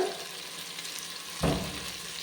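A spoon stirs a fenugreek rice mixture in a pan after salt goes in, a soft scraping stir over a steady low sizzle, with one louder stroke partway through and no talk.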